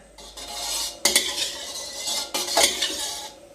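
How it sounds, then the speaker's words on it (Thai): A metal wok clanks down onto a stove, followed by a second clatter and faint hissing as vegetable oil goes in, close by. "ตั้งกระทะใส่น้ำมันพืชลงไปประมาณ 2 ช้อนโต๊ะ"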